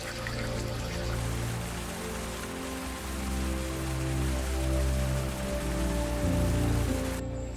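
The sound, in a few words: roaring whitewater river rapids in Tibet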